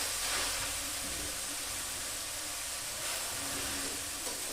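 Grated carrots fry in ghee in a pan for carrot burfi, giving a soft, steady sizzling hiss throughout, quiet and even with no talking.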